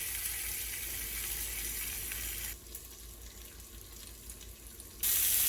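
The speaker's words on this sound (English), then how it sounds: "While this bacon's cooking over here" Bacon frying in a pan makes a bright, continuous crackling sizzle that drops to a quieter hiss midway and then jumps back to full loudness near the end.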